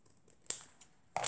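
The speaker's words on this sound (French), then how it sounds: "je vais couper droit" Scissors cut a straight line through paper card while a pop-up card is being made, giving two short crisp snips about two-thirds of a second apart, close and fairly quiet, with no talking.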